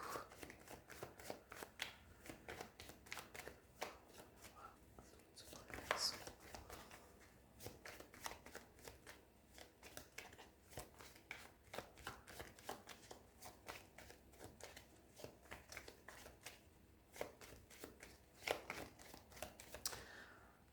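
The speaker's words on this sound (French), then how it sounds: "on va bien mélanger les cartes pour vous" Tarot cards are shuffled by hand for a long stretch, a steady run of quick, faint riffling flicks and soft papery slaps close by, with no break through the whole passage.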